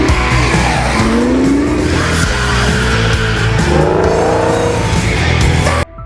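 Car stunt driving from The Fall Guy film: a loud, close engine with sustained, rising tire squeals and skidding across several seconds before cutting off abruptly near the end, with no voices.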